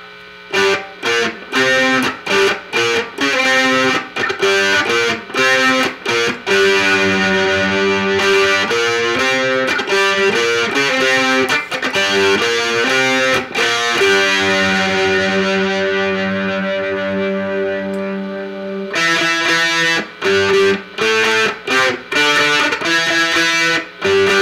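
Heavily distorted Morgan Monroe Mandocaster electric mandolin plays chopped rock riffs and sustained chords, loud and up close, with brief gaps between phrases.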